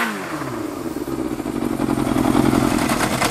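An air-cooled four-cylinder Yamaha XJR400 with a custom RPM-style muffler idles close by, giving a steady, throbbing, slightly lumpy exhaust burble that grows a little louder toward the end, with no voices.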